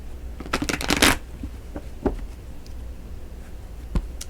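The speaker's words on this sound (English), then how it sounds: "let's go ahead and pull some tarot cards." Tarot cards shuffled by hand, a quick riffle burst of papery flutters near the start, then a few soft isolated card snaps and taps in a quiet room.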